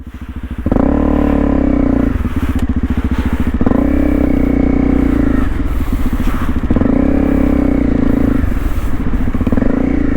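A Honda CRF250 Rally motorcycle riding across boggy, flooded grass, its single-cylinder engine loud and close, droning steadily with repeated rises and dips in revs as the throttle is worked.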